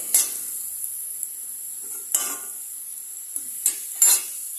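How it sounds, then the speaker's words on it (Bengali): Potatoes fry in a pan for a Bengali poppy-seed dish, a faint background sizzle broken by four or five short spatula scrapes and stirs, close and otherwise quiet. "এটাকে লাল লাল করে একটু ভেজে নেবো"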